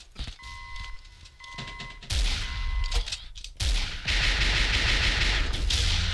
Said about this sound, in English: How did I miss all of them pistol shots?